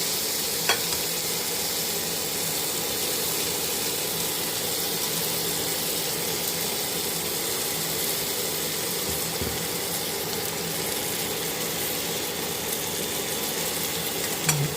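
Chicken pieces sizzle in a hot pan with a steady, even crackle throughout, with a couple of faint utensil clicks and no talking.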